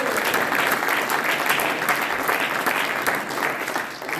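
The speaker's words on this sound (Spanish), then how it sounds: "Un fuerte aplauso a Héctor." Sustained applause from a studio audience for a guest named Héctor on a panel show, a steady dense clatter of clapping that holds loud for about four seconds before easing slightly at the end.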